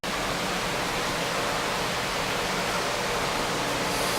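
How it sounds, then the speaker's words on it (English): Dense, constant rushing water from an indoor aquaponics system in a basement with fish tanks, pumps pushing water up and pipes draining it down, a loud steady roar filling the space. "One pipe pumping water up, the other pipe letting water out, draining down."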